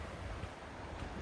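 Steady broadband rushing of a small river flowing, loud and continuous without pause, with a low rumbling wash underneath and no voices.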